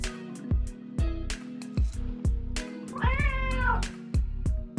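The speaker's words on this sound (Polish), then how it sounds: "Słyszałaś, mruczy, czyli lubi być z nami." A cat in a Toca Boca video game gives a quick series of loud, close meows, with a longer wavering meow in the middle and no talk over it.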